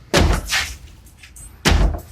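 An entrance door, loosely fitted in a flimsy wall, bangs shut twice, with heavy close thuds about one and a half seconds apart and a softer knock in between.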